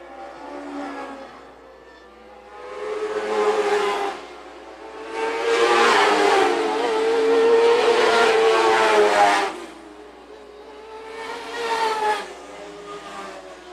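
Rocky Mountain dwarf cars race around the Phillips County Raceway dirt track, engines swelling loud as the pack passes, fading, then surging again in waves of revving.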